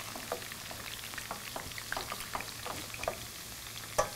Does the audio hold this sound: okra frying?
yes